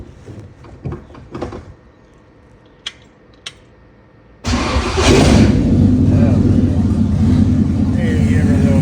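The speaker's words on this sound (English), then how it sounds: "Crank the car." A car's engine is cranked after new motor mounts were fitted: a few scattered knocks and clicks, then the starter catches and the engine fires abruptly into a loud, steady close-up idle.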